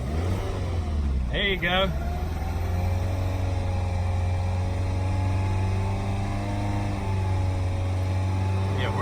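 A Toyota Echo engine, treated with Seafoam, runs with a steady droning hum and rises briefly in pitch as it is revved, while a person speaks briefly nearby.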